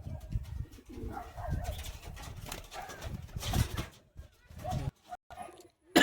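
A high-flying pigeon at a full-loft sale in Bagnan, Howrah, coos in soft, uneven bursts while being handled and shown. There is rustling and background noise around it, and a brief loud knock comes at the end.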